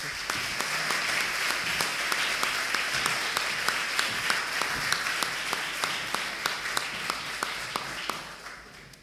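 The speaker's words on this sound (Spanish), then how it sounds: "Un aplauso." Steady audience applause at a university academic-year opening ceremony in Chile, many hands clapping evenly for the full length and slowly thinning toward the end, with a few sharp individual claps standing out.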